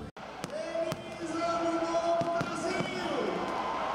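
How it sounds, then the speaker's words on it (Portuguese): New Year's fireworks burst over a crowded São Paulo avenue as a series of sharp bangs at irregular intervals, heard under a steady roar of crowd noise and people talking. "Foram 10 minutos de fogos que brilharam o céu."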